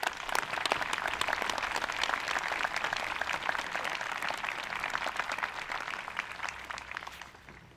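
An audience at the 2019 Falmouth Veterans' Day ceremony applauds to welcome Commander McSorley, steady dense clapping from many hands that carries on throughout and fades slightly at the end.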